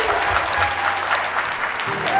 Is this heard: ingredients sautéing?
no